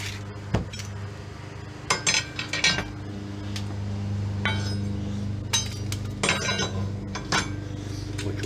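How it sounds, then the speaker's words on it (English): Metal clinks and knocks as a brake rotor is set onto the rear hub of a 2009 Ford Taurus in a garage, several sharp clanks scattered over a steady low hum, with no talk. "I'm just throwing the rotor on here"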